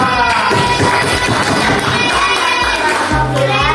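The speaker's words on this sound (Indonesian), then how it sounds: "tepuk tangan buat kelompok 2" A classroom of children claps and cheers together for a student group during an Islamic jurisprudence lesson on Eid prayer. The sound is a dense, steady burst of hands and excited young voices, close and loud throughout.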